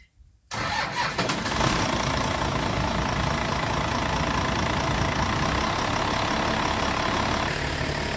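A pond-draining pump engine with its throttle locked open fires up after a brief silence, then runs at a steady, loud, unbroken roar for the rest of the clip.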